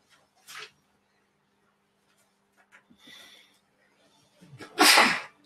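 A single loud, close sneeze near the end, preceded by a couple of short sniffs and faint breathy noises in an otherwise quiet room.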